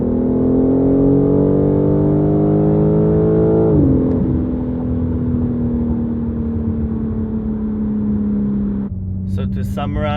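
A BMW G8X fitted with CTS Turbo catless downpipes revs close by with a loud, steady exhaust drone that climbs and then drops in pitch before it settles into a sustained idle-like rumble.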